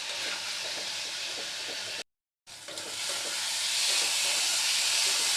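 Ghugni, dried peas with ground coriander and chopped green chilli, sizzles and is stirred in a pan, making a steady close frying hiss with a brief silent break partway through.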